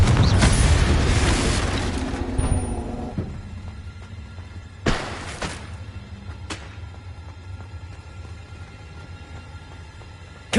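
A Confringo fire spell exploding in the Hogwarts Legacy video game: a loud blast that rumbles away over a couple of seconds, followed by sharp single cracks and thumps with quieter gaps between them.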